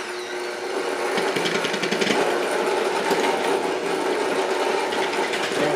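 A big electric mixer whirs continuously nearby, a steady mechanical drone with a rattling texture and no talking over it.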